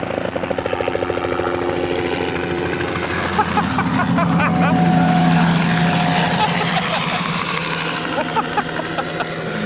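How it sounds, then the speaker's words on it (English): A helicopter flies right past outdoors, its rotor chop and engine whine loud and close, swelling and then fading, while people talk excitedly over it. "Grace for the helicopter that's flying right by."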